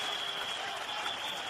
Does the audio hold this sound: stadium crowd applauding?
yes